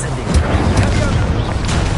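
Fire spell cast in the video game Hogwarts Legacy: a dense, rumbling whoosh with low booming bursts, held steady for about two seconds at close range with no clear talk over it.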